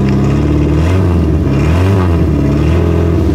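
A cold car engine on a snowy day revs continuously and loudly, its rough uneven pitch rising and falling throughout with no voices.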